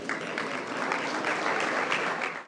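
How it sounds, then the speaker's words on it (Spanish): A conference audience at a sustainable real estate investment panel bursts into dense, steady applause that fills the whole moment at full volume, then cuts off abruptly at the end. "Un aplauso, por favor."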